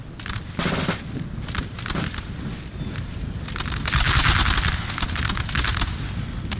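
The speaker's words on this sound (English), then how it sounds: "And begins opening fire" A musket line of infantry opens fire in a Napoleon: Total War battle at Friedland, with rapid crackling volleys of overlapping gunshots in repeated bursts that swell into a dense fusillade near the end.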